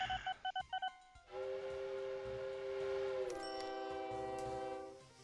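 A goods train in a railway simulation game: a quick series of electronic beeps, then a sustained tonal horn-like drone that shifts pitch midway before fading out.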